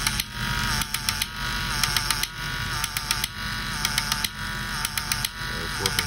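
Small electric motor of a Radio Shack R/C Sherman tank running in reverse with its treads off, a steady close whine and hum with periodic buzzy pulses throughout.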